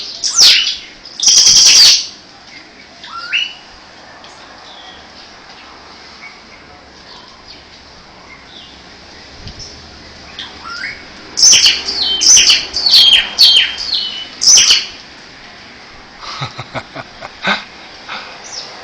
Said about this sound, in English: Lots of noisy little critters, birds.